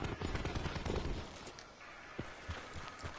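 Rapid gunfire sounds in a shooter video game during play. The shots form a steady, faint, crackling stream of bursts under a busy, noisy game mix, with no clear talk.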